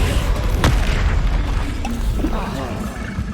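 A Bombarda explosion spell goes off in the video game Hogwarts Legacy, a deep rumbling boom and burst amid a busy mix of combat effects, with a voice speaking over it.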